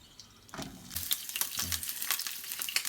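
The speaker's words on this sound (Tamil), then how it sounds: "அதோட டொமேட்டோ முழுசாக அப்படியே போட்டு நம்ம ஃப்ரை பண்ண போகிறோம்" Whole tomatoes drop into a hot pan with a teaspoon of oil for tomato chutney, setting off a close, rising crackle and sizzle that thickens over the few seconds.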